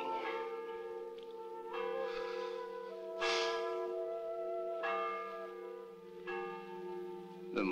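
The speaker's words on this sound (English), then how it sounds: "Why is the bell ringing?" A church bell at a convent tolls repeatedly, each clear, resonant strike ringing out with a long sustained hum before the next, steady and fairly close, with no voices.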